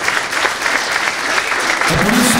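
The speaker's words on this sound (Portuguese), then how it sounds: "com a salva de palmas" A political rally crowd applauds, dense continuous clapping filling the whole stretch, loud and close with no speech.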